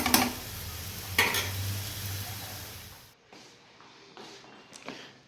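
Potatoes sizzle and fry in a pan, with a couple of sharp utensil scrapes and clinks before the sound drops to a quieter, muffled simmer as the pan is covered.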